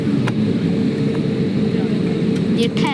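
A loud, steady jet engine roar from an airplane stopped on the ground drones on without pause, with faint scattered clicks and a few brief noises on top.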